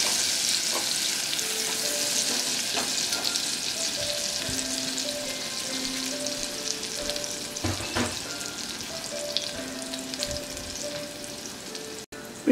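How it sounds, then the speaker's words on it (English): Shallot sautéing over medium heat in a pan, a continuous soft sizzle with occasional spatula scrapes and stirring knocks throughout, close by and free of speech. "on medium heat, we're going to put in the shallot"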